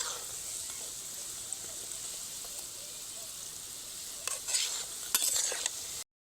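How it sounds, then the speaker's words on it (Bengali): Madan kotkoti, a Bengali sweet, frying in hot oil gives a steady soft sizzle throughout, with a few brighter crackling bursts near the end. "কিন্তু আরও কিছু সময় এটা ভাজা হবে।"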